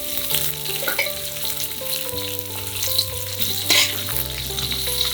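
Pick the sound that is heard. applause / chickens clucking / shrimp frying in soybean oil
shrimp frying in soybean oil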